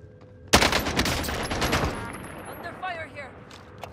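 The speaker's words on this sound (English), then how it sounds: "Under fire here." A sharp volley of Call of Duty Warzone gunfire erupts suddenly and continues in rapid shots for over a second, then fades under scattered game sounds and a faint voice.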